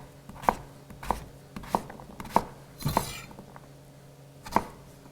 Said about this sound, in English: cut it in half. Cut it in half again.